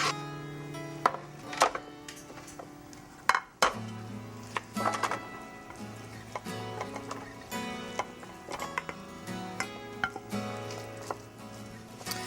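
TexMex meatloaf mixture is scooped and pressed into a pan, with soft wet thuds and clinks of a utensil against the pan over about twelve seconds. A few louder knocks stand out, and no one speaks.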